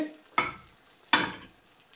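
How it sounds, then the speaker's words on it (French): Beaten eggs are poured into a frying pan, giving two short bursts of sizzling, each flaring sharply and fading over a fraction of a second, close and clear with no talking. "Donc là, j'ai fait couler les œufs."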